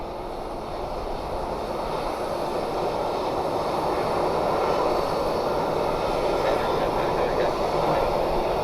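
Jet airliner at Columbus Glenn Airport, a steady broad roar that swells slightly and holds loud and fairly close throughout, with no talk over it.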